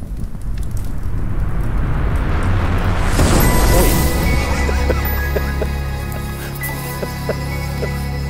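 Hydrogen balloon ignited, a loud whooshing burst that swells over a few seconds and then settles into a lingering roar and crackle, with scattered faint clicks afterward.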